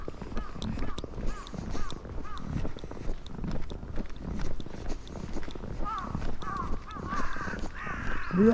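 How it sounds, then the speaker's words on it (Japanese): Crows caw repeatedly in a winter forest, a steady scatter of harsh calls near and far over crunching footsteps, with occasional talk. "うわすごいねこれ、カラスが。"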